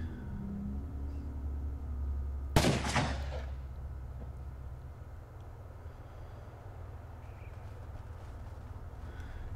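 Gunfire during a raid in the survival video game Rust: one sharp, loud shot or blast rings out with a short decaying tail, over a steady low rumbling background.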